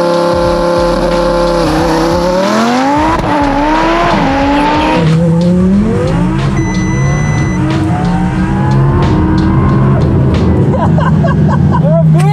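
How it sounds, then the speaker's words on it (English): A twin-turbo Audi R8 engine roars and revs hard as it accelerates, pitch climbing through gear changes, loud and close, with tire noise underneath. "This is Leah's first drive in this twin turbo R8."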